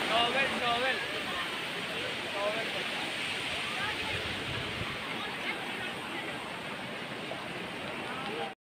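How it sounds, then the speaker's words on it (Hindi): A waterfall near a temple in Himachal Pradesh roars as a constant broad rush of falling water, with a babble of visitors' voices mixed into the steady wash. "झरने पर आ चुके हैं"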